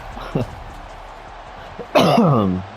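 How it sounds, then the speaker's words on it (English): A short throat-clearing cough near the start, followed by a louder voiced vocal sound, close to the microphone against quiet background noise. "I feel like I have to cough again, but I would really rather not."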